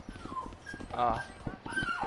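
A dog whimpers and yips in a rec room, with short high whines among background voices.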